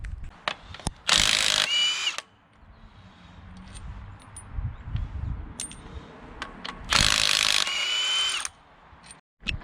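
A power tool rattles off flywheel bolts during a Ford turbo diesel engine swap with a two-shaft transmission, in two loud, close bursts a few seconds apart, with light metallic clinks and handling noise between.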